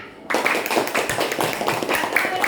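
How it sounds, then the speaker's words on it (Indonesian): Indonesian schoolchildren in a classroom clapping hands loudly together, a dense burst that starts abruptly and stays steady to the end. "Boleh tepuk tangan yang gemuruh nak?"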